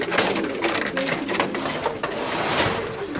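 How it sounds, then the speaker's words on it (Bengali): A golden female pigeon coos at close range in a few soft, throaty, repeated calls. "এটা গোল্ডেন মাদি কবুতর"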